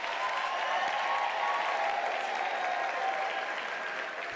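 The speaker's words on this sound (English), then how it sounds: "Can you please give them a round of applause?" Sustained applause from a large audience at a university autumn graduation ceremony in a hall, a dense, even roar of clapping throughout, with no voices above it.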